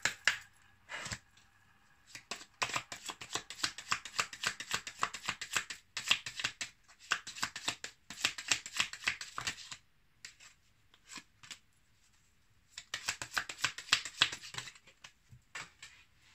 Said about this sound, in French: je vais tirer quelques cartes de l'oracle des amoureux.